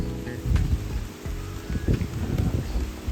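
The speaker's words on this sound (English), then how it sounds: "it started raining really hard" Hard rain drums steadily nearby, with a low rumbling undertone and scattered heavier splashes, no voices.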